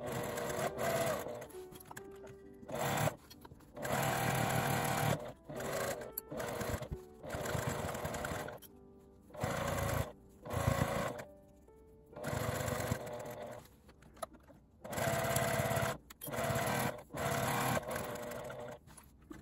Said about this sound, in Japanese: 返し口を開けて1センチの縫い代で縫います。